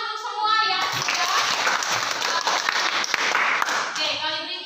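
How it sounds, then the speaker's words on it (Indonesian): Applause breaks out in a classroom of students, a dense patter of many hands clapping steadily and fairly close for several seconds, with children's voices mixed in. "Tepuk tangan untuk semua yang sudah"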